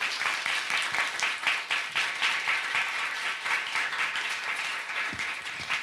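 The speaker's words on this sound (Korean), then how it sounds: "큰 박수로 맞이해 주시기 바랍니다." A seated audience gives a warm round of applause to welcome a guest to a humanities and arts concert stage, with clear individual claps forming a steady, lively wave that stays strong throughout.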